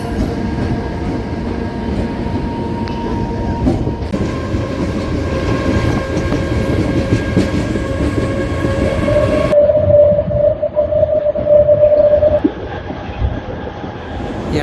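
A DEMU passenger train runs loud and close into Proddatur station, with rumbling wheels, a steady clatter over the rails and a sustained horn-like tone near the end.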